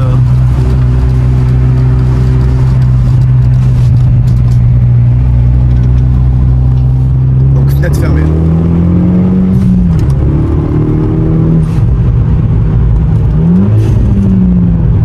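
A Renault Mégane 2 RS with a Stage 2 tune, heard inside the cabin, drones steadily with a low hum, then revs up and down a few times in the second half; a voice speaks briefly over it.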